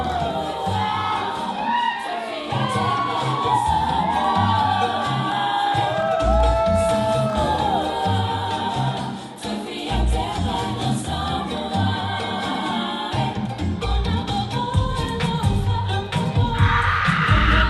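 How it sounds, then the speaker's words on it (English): Audience applause and cheering with shouts and whoops from a crowd of children and adults at the close of a Samoan siva dance performance in a year-end recital, loud and sustained throughout with music lingering underneath. "Oh, what a round of applause, ladies and gentlemen"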